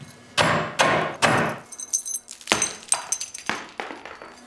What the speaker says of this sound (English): I'm gonna get a hammer and I'm gonna smash it up.